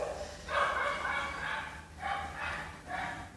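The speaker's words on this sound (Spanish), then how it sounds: "Ladridos, ya se escuchan." Several dogs barking from a distance, a few muffled bursts of barks and yips spaced across the moment, faint and somewhat far off with a low background rumble.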